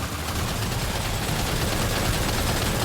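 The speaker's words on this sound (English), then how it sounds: "Opening fire now." Sustained, loud gunfire in Death Stranding 2 forms a dense, continuous barrage of overlapping shots with no pauses and no talk over it.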